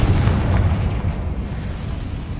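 A Confringo blasting spell explodes in the Hogwarts Legacy video game, a loud, sustained low booming rumble that rolls on for a couple of seconds, with no talk over it.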